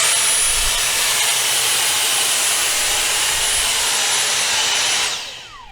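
A Dyson cordless vacuum cleaner runs alone with a loud, steady high-pitched whine and airy roar for about five seconds, then winds down as it is switched off.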